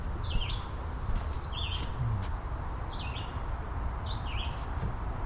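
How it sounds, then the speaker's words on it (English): Small birds chirping in park trees, a few brief, faint high chirps spaced a second or so apart over a steady outdoor hiss of wind and distant traffic. "You got birds up in the trees."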